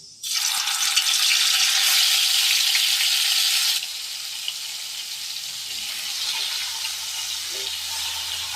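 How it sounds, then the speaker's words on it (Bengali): Paneer pieces dropped into hot refined oil, a loud bright sizzle that bursts in at once and then settles into a softer steady frying hiss, close up, with light handling in the background. "তেলটা গরম হয়ে গেছে। এবার আমি পনিরের পিসগুলো আস্তে আস্তে ছেড়ে দেবো।"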